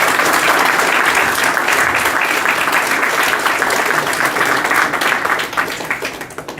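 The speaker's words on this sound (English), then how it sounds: "Can we have a round of applause for them?" A school night audience bursts into loud, dense applause that holds steady and fills the room, then begins to thin toward the end.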